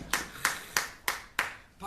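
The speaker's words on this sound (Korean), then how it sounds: "박수를 칠 줄 알아야 돼" One person claps five times at an even pace, each clap sharp and close with a short gap between.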